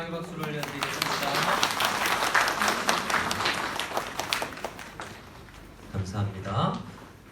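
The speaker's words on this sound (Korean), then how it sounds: "영광의 박수를 올려드리겠습니다" Church congregation at a Korean Sunday worship service giving a sustained round of applause, dense clapping for about five seconds under a speaking voice, then easing off as a voice continues.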